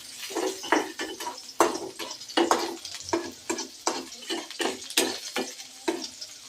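Chillies and cashews fry in a hot pan while being stirred, giving a steady sizzle broken by repeated scraping strokes of a spoon against the pan, close up with no talking.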